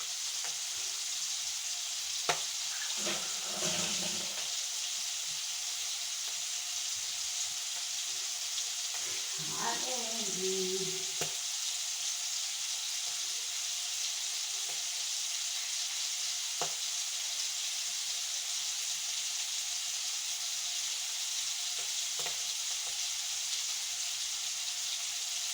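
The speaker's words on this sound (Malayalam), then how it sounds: "കക്ക ഇത് ഫ്രൈ ആയി വെച്ചിട്ടാ" Mussels sizzle steadily in a hot pan in a home kitchen, a constant close-up crackle under faint talk with a couple of brief stirring clatters.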